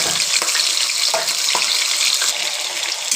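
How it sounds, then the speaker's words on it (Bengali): Potatoes dropped into hot oil for a spiced taki fish curry fry with a loud, continuous hiss and crackle, close and steady, with a few light clinks and no voices. "আমার তেলটা গরম হয়ে গেছে, আমি সবার প্রথমে আলুগুলো দিয়ে দেব।"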